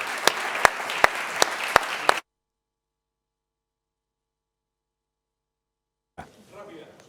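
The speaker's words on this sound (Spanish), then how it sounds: "Un aplauso, por favor." Applause from the audience at a Spanish CIO summit session on cybersecurity, a short burst of dense clapping with a few sharp individual claps standing out, ending abruptly and followed by a long silence before faint talk resumes.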